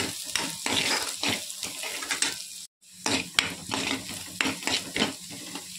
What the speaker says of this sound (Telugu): కొంచెం లైట్గా ఫ్రై అయితే చాలండి